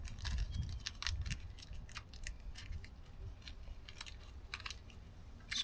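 Plastic packaging holding small square-bit screws being opened by hand, giving a series of close crinkles, snaps and light metallic clicks in irregular bursts throughout.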